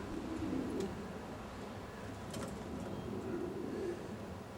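Racing pigeons cooing nearby in a loft, two soft rolling coos separated by a pause, over a steady low background hum.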